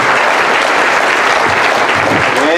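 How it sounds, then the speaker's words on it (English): A crowd at an awards dinner gives a big round of applause for sponsor Turner Industries, dense, loud, steady clapping filling the room. "let's give a big round of applause for Turner Industries"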